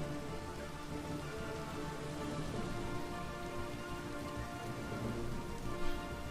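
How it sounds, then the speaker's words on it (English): Rain falls in the Minecraft Skyblock video game as a steady, dense patter with a constant hiss at an even volume and no talk. "And it rains."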